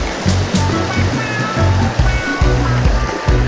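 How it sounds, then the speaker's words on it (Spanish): A river feeding the Presa del Llano reservoir rushes steadily, loud and close, with a dense continuous wash of flowing water and some low thumping, likely wind on the microphone. "el río que alimenta lo que es la presa."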